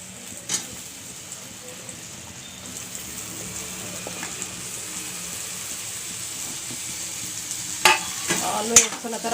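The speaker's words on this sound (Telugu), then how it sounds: "ఆలు వేసుకున్న తర్వాత కొంచెం కలుపుకుందామండి" Diced potato and browned onion fry in a pan while being stirred, a low sizzle building gradually, with occasional utensil scrapes and a cluster of louder clanks toward the end, heard close with no talking.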